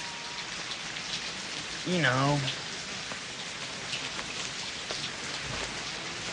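Steady rain pours down throughout, a dense even hiss with a short burst of a man's speech partway through.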